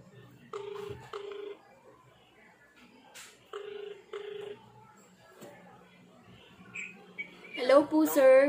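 A phone placed on a prank call gives a sequence of short, clean ringback tones separated by pauses, then a voice comes through the earpiece at the end.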